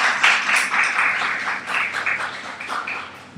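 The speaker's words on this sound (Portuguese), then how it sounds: "Um aplauso pela vida do nosso irmão." A church congregation breaks into steady applause, a continuous wash of many hands clapping at moderate volume, with no voices over it.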